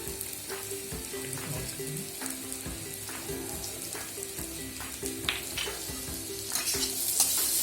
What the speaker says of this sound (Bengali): এ পর্যায়ে আমি আলুগুলো ভেজে নিচ্ছি এবং এর মধ্যে প্রয়োজন মতো লবণ ও হলুদ গুঁড়া দিয়ে দিলাম।